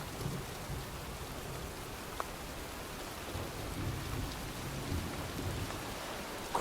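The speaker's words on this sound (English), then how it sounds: "Well, looks like a storm's coming." A thunderstorm in the video game Heavy Rain, with steady rain hissing across surfaces and low rumbling underneath, fairly quiet and continuous with a few faint drips and knocks.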